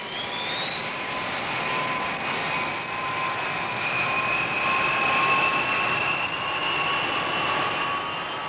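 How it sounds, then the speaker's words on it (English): B-52 bombers of the Strategic Air Command taxiing out, their jet engines giving a steady, loud whine with rising turbine tones over a continuous roar, alone with no talk. "Everything ready, the B-52s taxi out and are soon on their way."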